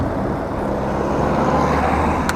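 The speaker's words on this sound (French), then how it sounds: "Jolie la Porsche." A Porsche car passes on a road, a steady broad engine and tire rush heard nearby, loud and constant throughout with no voices.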